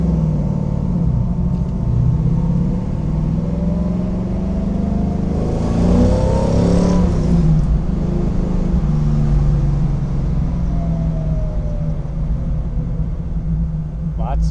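A restored Tiger car accelerating hard, its loud engine roar rising in pitch through the gears and peaking midway, close and continuous.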